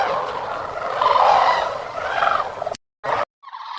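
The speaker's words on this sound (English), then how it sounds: "As evening falls, they call again, their voices acting as a sonic lighthouse that guides every bird back to the safety of the roosting grounds" Sandhill cranes give a loud, rolling, rattling call at evening, a sustained trumpeting burst that swells and fades over a few seconds before cutting off abruptly.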